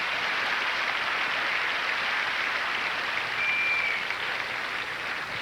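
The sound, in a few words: audience applause at a telethon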